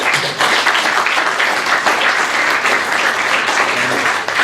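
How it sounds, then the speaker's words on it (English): A large audience applauds the speakers before a debate on genocide denial, a loud, dense wash of clapping that holds steady throughout with no break. "would you give them a round of applause before we start?"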